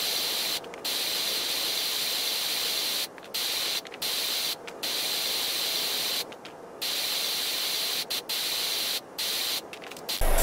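A pressure washer in a power washing game sprays in a loud, steady hiss that cuts off briefly several times between long continuous bursts.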